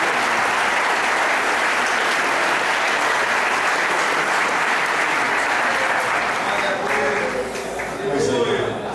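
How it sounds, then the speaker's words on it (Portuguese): A church congregation clapping steadily for several seconds, a dense, even wash of applause with a voice speaking over it toward the end. "As palmas exaltam, as palmas exaltam, as palmas exaltam o nome do Senhor Deus."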